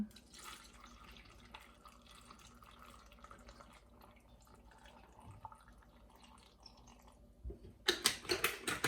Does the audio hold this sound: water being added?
yes